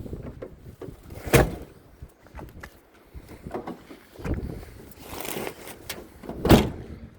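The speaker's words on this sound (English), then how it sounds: "Just shut the door." A door is shut and locked at a customer's property: a few scattered thuds and clicks of handling, with two sharper bangs standing out over low background noise.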